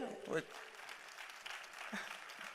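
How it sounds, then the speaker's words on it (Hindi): Scattered applause from a crowd at a university sports festival opening ceremony, clapping steadily but fairly faintly, with a brief voice cutting through near the start. "नए रजिस्ट्रार साहब के लिए भी तालियां बजाइए।"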